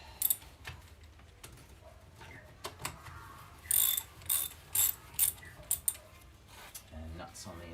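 Ratchet loosening the soleplate bolts on a Scott Bonnar 45 groomer, with bursts of clicking and metallic rattling between pauses and a low background hum.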